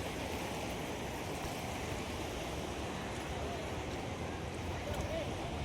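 Sea water at the shore near Haji Ali with the tide rising gives a steady rushing, churning wash of waves, continuous and fairly loud with faint distant background sounds.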